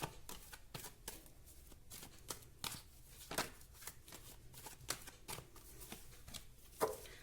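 Tarot cards are shuffled by hand, a rapid run of crisp riffling flicks and soft taps repeating steadily at close range, quiet and with no talking.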